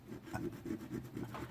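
Short rasping strokes of a file on a sharp metal toy car edge, deburring it, about five in a rhythmic back-and-forth, close and fairly quiet with no talking.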